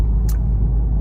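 A 2017 Range Rover Evoque on the road, a steady low engine and tyre rumble heard from inside the cabin, loud and continuous with a brief hiss near the start.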